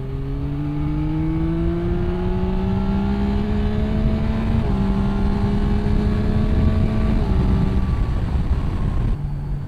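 A Yamaha Tracer 9 GT motorcycle accelerates hard, its engine note rising steadily through the gears with a brief dip at a shift, loud and close under heavy wind rush, with no speech.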